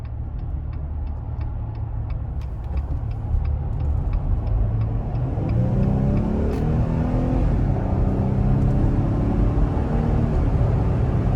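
A 2021 Jeep Gladiator Sport pickup speeds up to merge onto the interstate, heard from inside the cab: a turn signal ticks at first, then the engine's steady rumble swells and climbs in pitch as the truck gains speed, with no talking.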